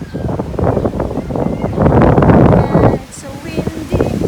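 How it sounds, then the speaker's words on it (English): Strong wind buffets the microphone in loud, roaring gusts on a walk in Montreux, Switzerland, with rushing water nearby and brief voices in the background. "It's so windy, it's so windy."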